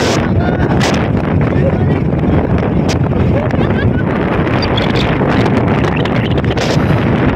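Loud, gusty wind roars constantly against the microphone, with waves and voices partly buried beneath it.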